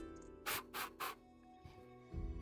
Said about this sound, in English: Give you a little spray